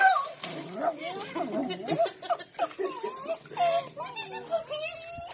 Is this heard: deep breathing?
no